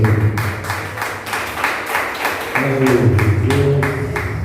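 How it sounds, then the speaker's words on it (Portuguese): A church congregation clapping their hands in steady rhythm during a worship service, even claps repeating about three times a second over sustained music. "As palmas para Deus"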